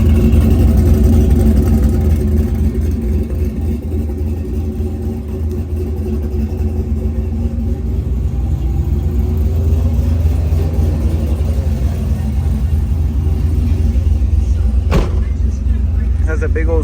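A brand-new pickup truck's engine runs steadily for the whole stretch, a loud, close, even rumble with slight swells in revving and a brief sharp knock near the end.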